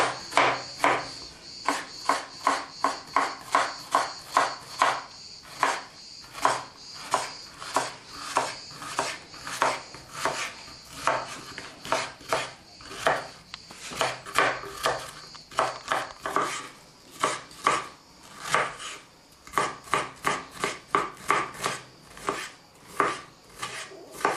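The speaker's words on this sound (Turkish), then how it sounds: "3 adet kuru soğanımız var. Bunu ince doğruyoruz." A knife thinly slicing three dry onions on a cutting board, fast steady chopping strokes in a continuous close rhythm with brief pauses, no talking.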